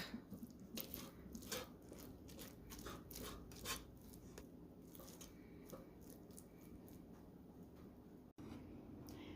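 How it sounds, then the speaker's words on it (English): Soft, faint scraping and squishing of a utensil fluffing cooked rice in a rice cooker on its keep-warm setting, a series of small irregular strokes against steady low background hum. "The rice cooker has flipped over to the keep warm stage, and it is time to fluff."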